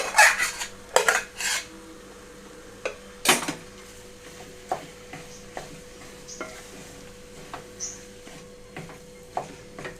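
A spoon scrapes and clanks against a pan as leftover rice is mixed into tomato rice, with a few sharp metallic knocks early on, then softer intermittent taps and stirring scrapes.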